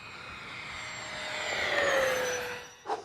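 Freewing V2 A-10 RC jet with twin 80mm ducted fans flying over a grass field, a smooth rising and falling whine as it passes, ending in a brief sharp noise near the recorder.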